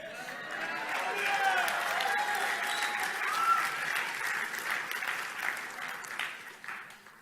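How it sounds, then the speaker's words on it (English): A church audience at a sermon breaks into sustained applause, a dense wash of clapping that swells and then gradually thins, with a preacher's voice speaking over it. "You clapped your hands too soon."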